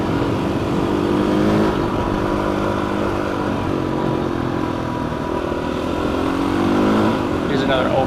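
A 500 motorcycle engine drones and revs continuously, close up, as the bike runs along an open mountain road, with rising and falling pitch and constant wind roar.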